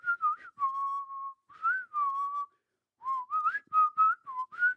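A person whistles a short melodic tune in clear, wavering phrases with brief pauses between them, close and alone with no talking.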